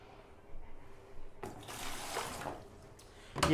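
Water runs and gurgles out of a home radiator's bleed valve into a container, a soft trickle that swells into a stronger splashing stream midway before a brief louder clatter at the end.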